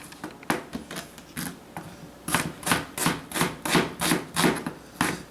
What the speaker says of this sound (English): first start by getting this onion chopped up